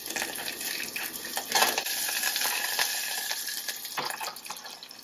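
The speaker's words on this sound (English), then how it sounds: "To my vegetable oil, I'm gonna add this random piece of onion, some garlic, a little bit of cilantro" Onion, garlic and cilantro sizzle in hot vegetable oil as Dominican food cooks, a steady hiss with a few stirring clatters and a brief louder burst near the middle.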